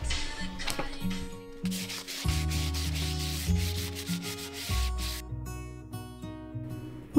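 Wooden cupboards in a 1940s laundry being sanded by hand, a steady rasping rub that runs continuously and close up, broken by brief pauses and shifts in pressure, with no talking over it.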